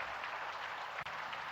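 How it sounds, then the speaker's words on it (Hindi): A crowd at a spiritual gathering claps in a sustained burst of applause honoring Uttar Pradesh Chief Minister Yogi Adityanath, a dense, even patter of many hands. "तालियों की गड़गड़ाहट के साथ"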